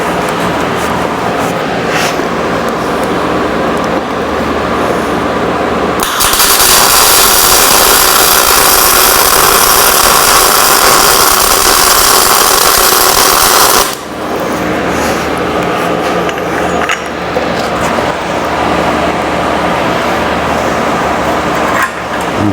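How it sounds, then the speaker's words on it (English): Tack welding on a steel welding fixture table: a loud, steady broadband crackle of the arc runs for about eight seconds in the middle, set between stretches of workshop hum and clatter. "Let's tack it here and then we'll flip it over and weld a little on the other side."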